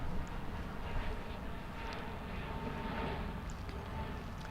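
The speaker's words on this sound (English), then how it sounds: "Okay, we've got American Airlines Flight 2027. It's another Airbus A319." An American Airlines Airbus A319 on approach to land at DFW Airport, a faint, steady distant engine roar with a low rumble underneath and no distinct voices.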